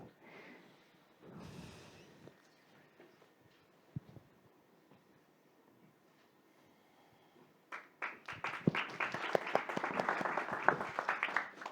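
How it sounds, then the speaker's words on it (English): Audience applause at a team presentation finale, a burst of dense clapping that swells up near the end after a quieter stretch with scattered sounds and brief talk. "No need for the applause"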